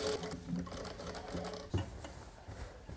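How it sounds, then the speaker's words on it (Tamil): A sewing machine stitches a boat-neck blouse back using embroidery thread in the bobbin, producing quiet, intermittent bursts of whirring and ratcheting with one sharper mechanical click in the middle. "இப்போ இது வந்து நம்ம பாபினில் போட்டு தைக்கலாம்."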